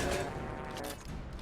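Rapid gunfire bursts crackle and thump steadily from a firefight in the Mass Effect 2 video game, loud and dense throughout with no talk over it.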